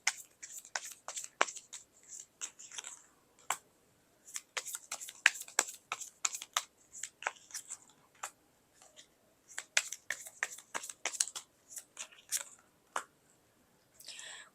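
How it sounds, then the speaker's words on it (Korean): Tarot cards being shuffled and drawn for a love reading, a busy close run of crisp card flicks, riffles and slaps in irregular bursts with short pauses between, no voice heard. "추가 카드 뽑아가면서 리딩 이어가도록 할게요"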